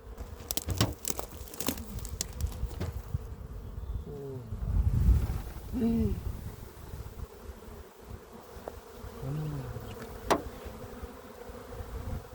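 Honeybees from a swarm that has moved into a beehive hum steadily and close, with louder buzzing passes as single bees fly near and away.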